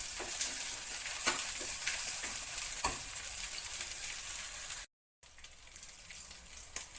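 Onions, garlic and thyme sauté in a pan with a steady, close sizzle and occasional stirring scrapes, broken by one brief silent gap partway through.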